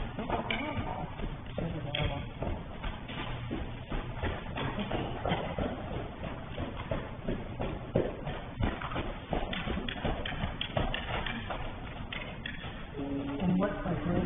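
A horse's hooves clip-clop across the footing of a riding arena, faint irregular thuds that carry on beneath ongoing conversation.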